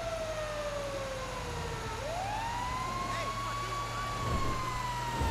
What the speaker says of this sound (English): We're turning on the sirens.